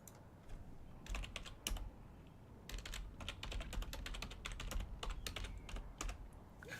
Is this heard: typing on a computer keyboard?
yes